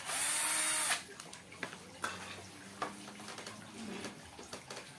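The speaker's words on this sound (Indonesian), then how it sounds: "kalau kita menggunakan bantuan bor baterai ini" A cordless battery drill driving a bolt whirs loudly in one close burst of about a second, then falls silent, followed by scattered metallic clicks and handling knocks.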